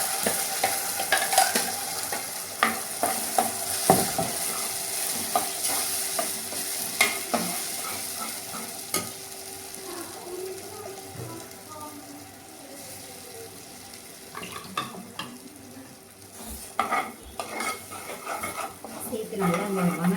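Ground masala is stirred into frying onions in a pan, with a steady soft sizzle under repeated scraping and clinking of a spoon against the metal. A voice speaks faintly now and then.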